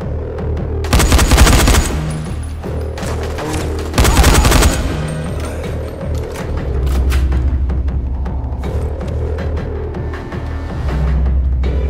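Rapid automatic gunfire in the Dying Light video game comes in two dense loud bursts, followed by lower rumbling ambience and scattered further shots.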